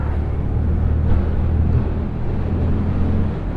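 2023 Honda Grom SP motorcycle cruising at around 50 mph, a steady low engine drone mixed with wind rush, loud and close and even throughout.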